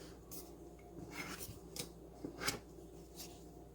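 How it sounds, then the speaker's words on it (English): Knife scraping and cutting through pastry dough around a cup for a spicy beef patty, a series of faint, close, short scratchy strokes. "I'm going to use my knife, cut around it"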